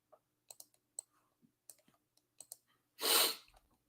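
A single loud sneeze bursts out near the end, close and sharp, after scattered quiet clicks like keyboard and mouse taps at a trading desk.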